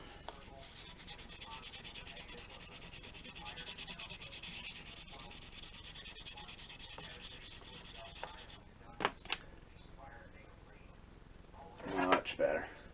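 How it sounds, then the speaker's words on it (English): Close, steady rubbing of sandpaper on a painted plastic Star Trek Klingon D7 battle cruiser model kit, continuous scratchy strokes for most of the clip, then pauses and handling noises, with a voice talking over it. "Sometimes you're just sanding so much, you miss spots because you're just wanting to get over it."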